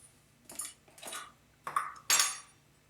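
Metal spoon clinks against a bowl as two tablespoons of sugar go in, four separate scraping, clattering taps spaced about half a second apart, close and fairly light, no talking.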